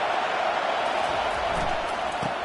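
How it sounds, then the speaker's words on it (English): Football stadium crowd roaring steadily at a game, a dense, continuous wash of massed voices filling the whole stretch at even loudness. "This crowd bringing the energy and noise early."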